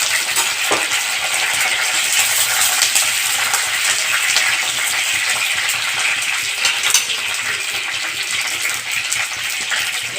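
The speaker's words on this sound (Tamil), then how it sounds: "பொரிஞ்ச உடனே நம்ம எடுத்து வச்சுருக்க பச்சை மிளகாயை அதில் சேர்த்துக்கணும்" Green chilies and curry leaves crackle and sizzle steadily in hot oil for a village-style dried fish curry, a dense, bright frying hiss holding loud and even throughout with small popping spikes and no talking.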